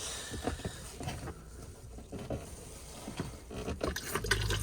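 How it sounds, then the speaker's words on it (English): Water rushes into a motorhome toilet bowl from the main tank's fresh water flush, a spattering, gurgling trickle that runs for several seconds and swells louder near the end. "this is your fresh water flush from your main tank"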